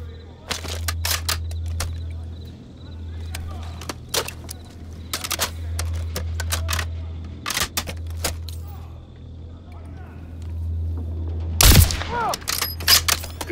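Gunfire in Call of Duty: Modern Warfare III: scattered sharp, cracking shots ring out over a steady low hum, ending in a louder burst near the end.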